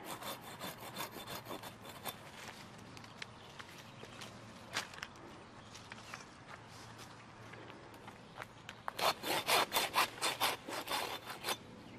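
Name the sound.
pruning saw cutting deadwood from a tree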